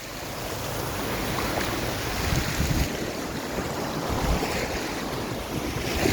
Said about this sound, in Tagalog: Ang ganda ng dagat.